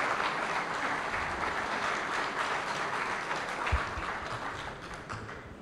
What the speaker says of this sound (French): des vives acclamations.